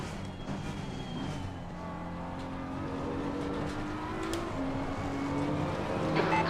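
Race car engine on a hot lap in Assetto Corsa Competizione, a steady droning whine that climbs gradually in pitch and loudness as the car accelerates, heard alone.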